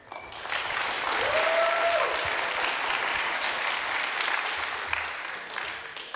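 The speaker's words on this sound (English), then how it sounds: "So give him an applause." Conference audience at EuroPython 2017 applauding a speaker, a steady wash of clapping from a large room that swells and then gradually thins out.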